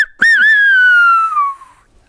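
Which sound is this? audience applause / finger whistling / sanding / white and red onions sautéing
finger whistling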